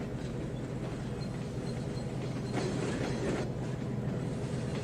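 A train in the video game Trainz 12 rumbles along steadily with a continuous low roll and faint rhythmic clatter, no voices present.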